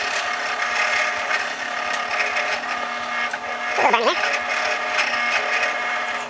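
Steady whirring drone of a drill with a 1/4-inch Forstner bit cutting into wood, with a brief voice rising over the machine noise midway.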